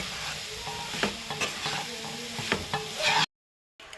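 Crushed tender jackfruit is stirred in a hot pan: scraping spoon strokes and clacks repeat irregularly over a steady sizzle, close and clear, with a brief silent gap near the end.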